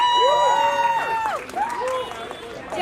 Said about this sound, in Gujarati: એકવાર તમારા માટે તાળીઓ થઈ જાય.